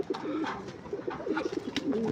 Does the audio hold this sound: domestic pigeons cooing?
yes